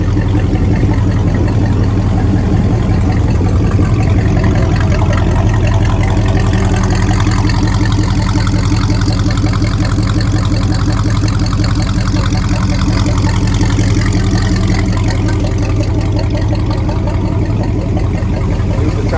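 A Chrysler 318 marine V8, freshwater cooled, runs steadily at idle, a loud, constant low rumble with mechanical chatter and no change in pace throughout.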